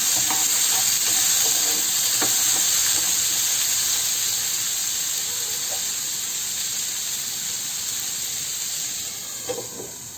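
Tomatoes, green chilies, ginger and tamarind frying in a pan, a loud continuous sizzle and hiss with occasional soft scrapes of stirring, close with no talking.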